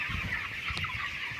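Chickens cluck softly and close by inside a 5,000-bird poultry farm shed, giving a brief burst of short calls over a low background hum.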